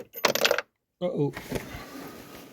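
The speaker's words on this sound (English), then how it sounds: "There went some washers." Several metal washers fall into a Ford Connect's engine bay during a battery change, giving two quick bursts of bright, close metallic clattering and jingling separated by a brief silence.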